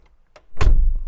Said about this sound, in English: love that sound of the closing door of the G-Class